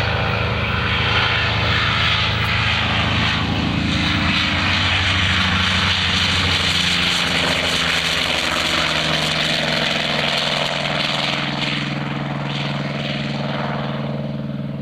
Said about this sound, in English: The distinct sound of the right engine in that Skyraider